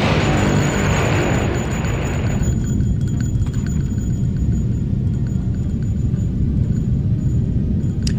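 In the video game Blood, explosive barrels blow up and ice crashes down in a loud, continuous booming rumble with deep low-end roar, a brighter burst at the start easing into sustained heavy rumbling.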